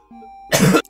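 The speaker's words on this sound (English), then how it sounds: "It hurts my stomach to cough." A single harsh cough bursts out loudly after a quiet, faint stretch, lasting about a third of a second before breaking off.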